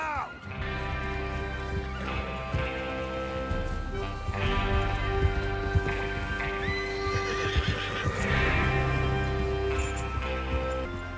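Horses whinny and hooves pound in a gallop in Red Dead Redemption 2, layered over music and clattering effects, loud and continuous throughout.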